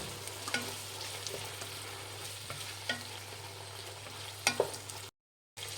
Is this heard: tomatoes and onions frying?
yes